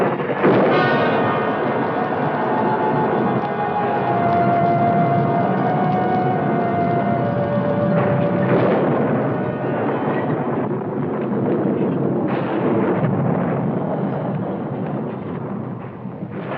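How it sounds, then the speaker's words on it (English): Electrical storm in a wild Western setting: deep, continuous thunder rolls loud and sustained, with low rumbling and a faint ringing tone drifting through it, no voices heard. "Another wonderful storm."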